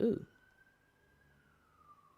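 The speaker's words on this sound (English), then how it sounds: "It's a siren. I am not editing the siren." A distant siren wailing with a steady tone that slowly drops in pitch, faint and alone after a brief thump at the start.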